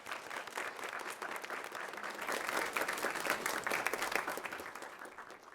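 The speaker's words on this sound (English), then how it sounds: "I want to give you a big round of applause." Church congregation applauding in a sanctuary, a sustained dense patter of many hands clapping that builds slightly in the middle and holds steady, fairly soft overall with no talking.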